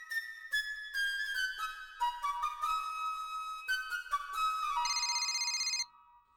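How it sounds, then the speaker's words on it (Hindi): A phone ringtone plays a melodic electronic tune of rising and falling tones, ending in a rapid trilling burst before it cuts off, clear and alone with no talking. "पापा का फोन।"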